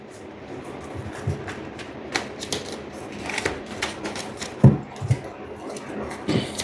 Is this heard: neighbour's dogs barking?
no